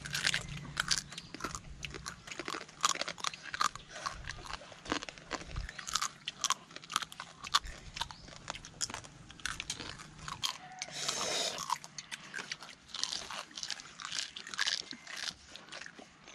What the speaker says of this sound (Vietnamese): Nãy giờ nghe nhai ăn cục cục quá đã luôn